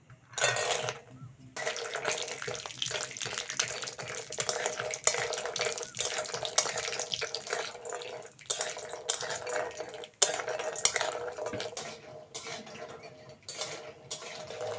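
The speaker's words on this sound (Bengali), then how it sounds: "এবার ওই তেলের মধ্যে বড়িগুলো ভেজে নেব" Sun-dried lentil dumplings (bori) fry in hot oil left from frying dried red chillies, giving a steady, fairly loud sizzling hiss from about one and a half seconds on, broken by brief crackles and small utensil knocks.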